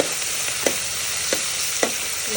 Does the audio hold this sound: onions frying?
yes